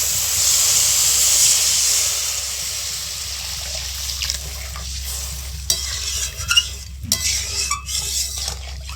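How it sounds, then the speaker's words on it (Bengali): Water poured into hot fried masala with fish-curry potatoes in a pan gives a loud steady hiss of steam at first, then fades into softer sizzling with scattered stirring clatter. "এবার দিয়ে দিচ্ছি জল।"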